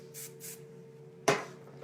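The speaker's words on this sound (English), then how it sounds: "And I comb my bangs forward and spray them." Hairspray is sprayed onto combed-forward bangs in two quick, soft, close puffs, followed by a sharper knock or clatter.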